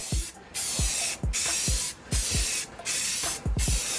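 Spray paint hissing onto an engraved 11x14 canvas in a thick single coat, a loud steady broadband hiss in bursts separated by brief pauses, with soft knocking and clicking from the can throughout.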